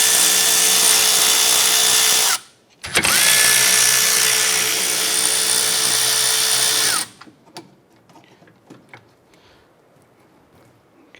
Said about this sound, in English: We're going to use our 12mm, loosen and remove our caliper bolts.